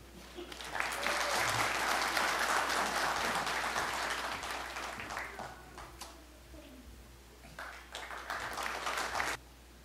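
Sustained applause fills a hall at a political party members' convention in Jeonju, welcoming the preparatory committee chair; a dense, steady wash of clapping that swells, holds, thins slightly, then surges again before stopping abruptly.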